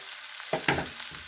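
Food being stirred in a hot frying pan, a steady soft sizzle broken by two quick scraping clatters of the utensil, close and unaccompanied by talk.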